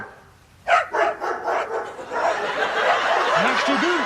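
Two dogs barking in a burst of repeated, loud barks that overlap, followed by continued yapping mixed with a busy, noisy background.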